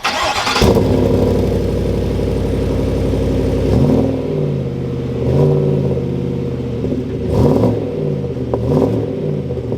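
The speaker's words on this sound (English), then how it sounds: "Let's go ahead and take a listen to this custom exhaust." A 2021 Chevrolet Silverado Tuscany Badlander pickup revs hard through a loud custom quad-tip exhaust, deep rumbling idle punctuated by several sharp throttle blips that rise and fall.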